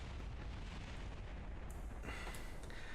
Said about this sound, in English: that solid rocket booster is still going and still stuck in the launch pad